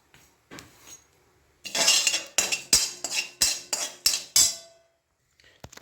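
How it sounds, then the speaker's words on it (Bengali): Whole dried chillies, coriander seeds and cumin are dry-roasted in a clay pan, with about eight sharp, rhythmic scrapes and clinks of a utensil stirring against the pan, close and loud between brief quiet gaps. "এটি কাঠখোলায় ভালোভাবে ভেজে নেব।"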